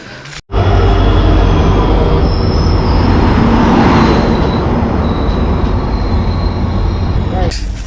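Loud, steady rumble and rattle of a moving passenger train heard from inside the carriage, continuous for several seconds after a brief dip at the start.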